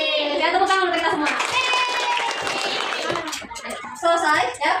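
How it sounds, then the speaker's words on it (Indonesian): A classroom of children claps together in brief bursts, light and scattered, mixed with excited kids' chatter and a teacher's voice over the top. "Ya, tepuk tangan untuk kita semua."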